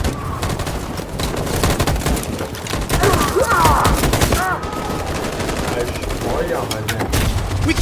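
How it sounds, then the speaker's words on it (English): Machine gun fire in the video game Detroit: Become Human rattles in dense, continuous bursts with booms and thuds of a battle scene, voices briefly shouting over the din. "That machine gun is taking down everything that moves."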